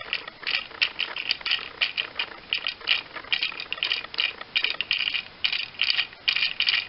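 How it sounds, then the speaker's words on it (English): Rodimus Prime action figure's ratcheted plastic hip joints clicking repeatedly in a dense, fast rattling run, close and fairly loud throughout with no talking. "The hips can only go that far, but they are ratcheted outwards."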